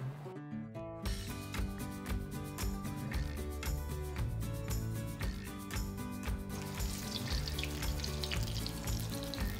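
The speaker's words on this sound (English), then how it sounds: "Frying them briefly in the oil warms up the tortillas." Steady crackling sizzle of corn tortillas frying briefly in hot oil, continuous throughout, with music playing in the background.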